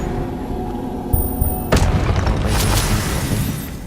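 Spell impacts in Hogwarts Legacy on PS5 land as deep booming bursts with a sharp crack, loud and close over a rumbling game soundscape, with no speech.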